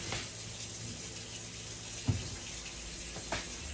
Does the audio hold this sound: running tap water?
yes